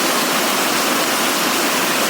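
Heavy rainwater rushes across a golf course on a rainy day, a loud, dense, unbroken roar like a close waterfall that fills the whole moment with no talking.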